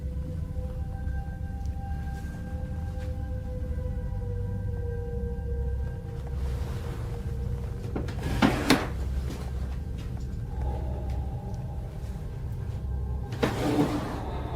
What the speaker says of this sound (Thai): ลิ้นชักครับ